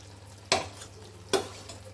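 Rohu fish pieces frying in oil in a pan, a quiet low sizzle broken by two sharp louder bursts, no talking.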